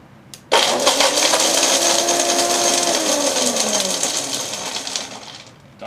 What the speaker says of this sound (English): I'm going to put Parmesan cheese, high speed, maybe 2-3 seconds, grate it to a fine powder.